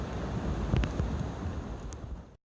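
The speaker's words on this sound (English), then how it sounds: "It's a little windy out." Wind on a mountaintop buffets the microphone in a continuous low rumble with a few gusty bumps, then cuts off abruptly.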